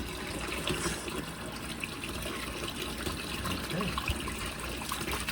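Cold water runs steadily from a kitchen faucet, a continuous rushing hiss with slight gurgles, fairly faint throughout.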